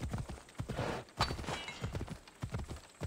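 A horse's hooves clip-clop steadily at a riding pace in Assassin's Creed Odyssey, the rhythmic near footfalls clear and moderately loud over a light background.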